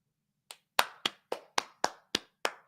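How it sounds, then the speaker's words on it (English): One person claps eight times in a quiet room, sharp close hand claps spaced at a fairly even, slightly irregular pace, with no talk. "Round of applause."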